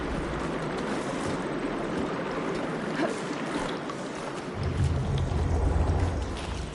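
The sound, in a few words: water flowing through switched pipes, video game Horizon Forbidden West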